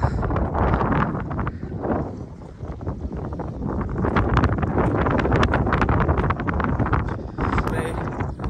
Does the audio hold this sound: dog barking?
no